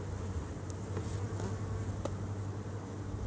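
Faint buzzing of bees hovers steadily, a soft insect drone with a few brief closer passes.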